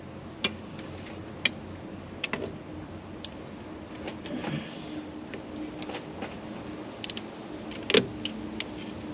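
Torque wrench tightening bolts on a Subaru during a DIY repair, a handful of sharp metallic clicks and ticks at irregular intervals over a quiet, steady background hum.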